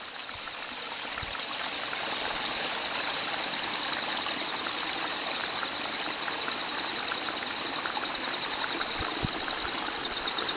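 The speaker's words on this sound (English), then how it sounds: "Now you can see how it's leaking. Water is coming over it" Water leaks along the full length of a weir and trickles over its edge, a steady, close, hissing flow that carries on unbroken with no voices.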